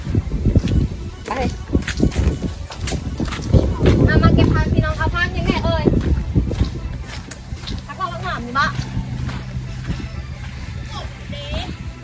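Wind blows across an outdoor table during a meal with friends, a rough, rumbling gust noise on the microphone, loudest early on and easing later, while people talk and laugh close by.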